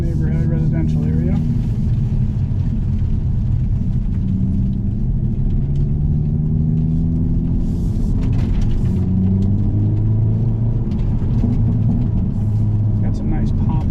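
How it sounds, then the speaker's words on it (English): A 2022 Hyundai Elantra N with a dual-clutch gearbox cruises through a salted residential street, its steady low engine and exhaust drone filling the cabin, with a few faint crackling exhaust pops breaking through midway. "Got some nice popping noises from the exhaust"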